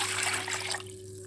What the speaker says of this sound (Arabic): عندي هنا لتر ميه ساقعه